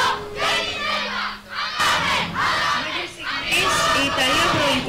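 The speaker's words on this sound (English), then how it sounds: "as we can hear, they are cheering up" Crowd at the European Youth Championships in Patras chanting and cheering in loud, surging unison shouts, rising and falling in waves with short dips between bursts.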